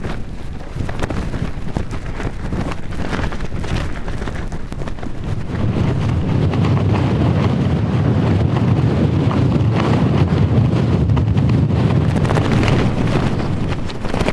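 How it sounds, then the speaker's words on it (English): Strong gusts roar across an exposed volcanic mountain ridge in New Zealand, forecast near 80 km/h, buffeting the microphone in a loud, continuous rumble that swells slightly stronger in the second half, with no talking. "Forecast at the hut said 80km/h gusts."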